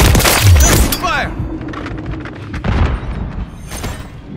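Gunfire in Call of Duty MW3 multiplayer Domination on the Meat map: a burst of sharp cracks and booms up front, then scattered shots and rumbling battle noise, with game voice callouts mixed in.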